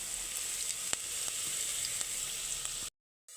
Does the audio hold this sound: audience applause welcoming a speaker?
no